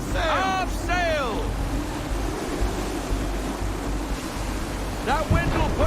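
At sea in Assassin's Creed III, heavy wind and crashing waves roar steadily around a ship. Loud shouted voices rise over the gusts at the start and again near the end.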